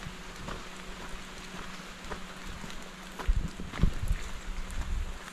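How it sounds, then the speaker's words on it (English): Steady hiss of rain with gusty wind buffeting the microphone in Mabaruma, Guyana, plus a few dull low thumps near the end. "And the rain come down on us"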